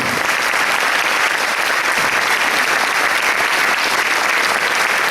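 A concert audience at a Paraguayan harp day celebration applauds steadily and loudly, a dense sustained wash of clapping that fills the whole stretch without letting up.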